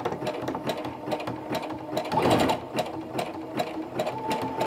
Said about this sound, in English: I'm gonna go ahead and stitch back and forth.